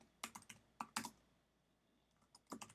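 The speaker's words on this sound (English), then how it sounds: "I'm going to actually type some new text here" Typing on a computer keyboard, a few quick clusters of close, soft key clicks separated by a quiet pause, with no talking.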